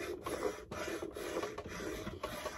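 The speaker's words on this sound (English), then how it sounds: "I am going to rub my candle all over the edges where I want paint to come off" A wax candle rubs back and forth along the edges of a wooden footstool in steady, scratchy strokes, close up and continuous with a few brief pauses.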